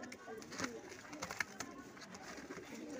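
Saharanpuri pigeons coo softly and repeatedly at close range, their low murmuring calls mixed with faint voices and background noise.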